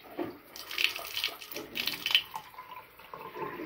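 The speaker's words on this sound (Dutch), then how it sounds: "Dan gaat iemand ondertussen zijn handen wassen." Tap water runs at a campsite shower building while someone washes hands, an irregular, soft splashing and trickling that comes and goes close by.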